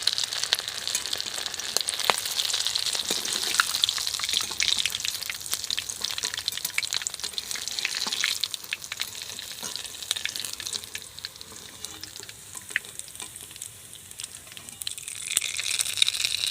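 Egg cutlets frying in oil, a dense, continuous sizzle and crackle close up, with occasional sharper pops and stirring scrapes, easing slightly toward the end.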